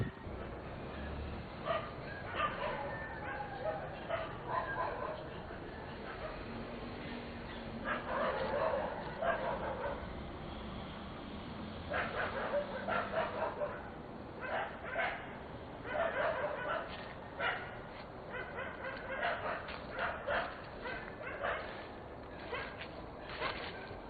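A dog barks and yips in scattered bursts over a noisy background, mid-distance, with some whimpering between barks.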